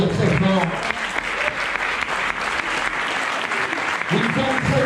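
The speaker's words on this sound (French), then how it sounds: "Je vous demande de l'applaudir très fort." Audience applauding loudly at a trail running event's welcome conference, sustained clapping throughout with some voices and talk mixed in near the start and end.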